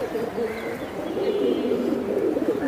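A female Surma Khaki pigeon with kajla-patti markings coos softly and steadily at close range, a continuous low murmur with no voices over it.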